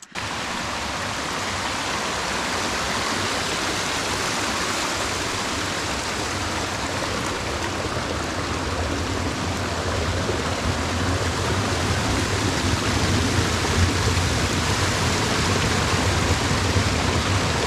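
A small river stream flows steadily past a campsite on the Rubicon Trail, a continuous broadband rush of water that stays even and fairly loud throughout, with no voices or other sounds.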